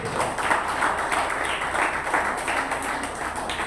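An audience at an anti-drug and alcohol awareness talk claps steadily, a dense, moderately loud wash of applause with no voices.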